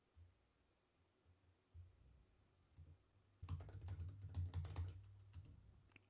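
Keys clatter on a computer keyboard while a Docker Machine command is entered on a Linux system, starting as a soft scattered tapping and then becoming a dense, steady run of close, fairly loud keystrokes for the last few seconds.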